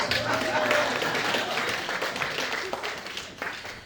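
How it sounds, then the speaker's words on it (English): A burst of crowd applause at a book launch, dense clapping that stays loud for a few seconds and then slowly thins out. "Can we clap for her?"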